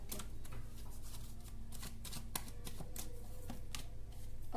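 Tarot cards being shuffled and drawn, a steady run of soft papery riffling and slapping taps that carries on without break, close and fairly quiet.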